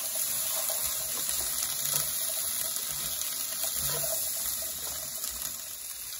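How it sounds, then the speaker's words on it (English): Canned chickpeas rinsed under running tap water, a steady close hiss and splash of flowing water over the chickpeas with light patters throughout. "Give the chickpeas a quick rinse before adding it in."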